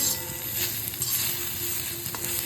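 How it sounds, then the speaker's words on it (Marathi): Mixed usal ingredients roast on a very hot tawa, a continuous close sizzle and crackle with light stirring, fairly loud and without voices. "खूप गरम झाला आहे तवा. एकत्र कोटिंग करून घेऊया याच्यावर. सगळं एकत्र भाजायचं आहे"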